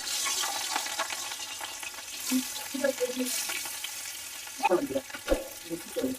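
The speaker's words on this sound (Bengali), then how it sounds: "মাছটাকে লাল লাল করে ভেজে নিব" Pieces of katla fish frying in oil in a wok make a quiet, continuous sizzle, with a few clunks and scrapes of turning near the end.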